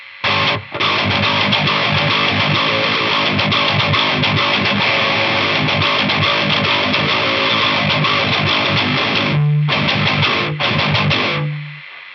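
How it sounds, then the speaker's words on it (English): A heavily distorted electric guitar plays continuously, its gritty saturated tone carrying a noticeable hiss, with brief gaps near the end. "you can hear there's a lot more hiss"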